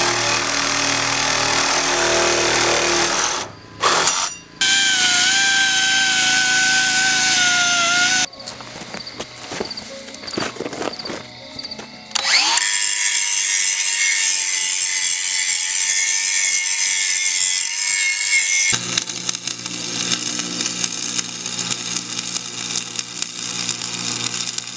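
A power tool cuts through threaded rod on a cargo trailer build, whining loudly in several bursts separated by short pauses and changes in pitch, close by.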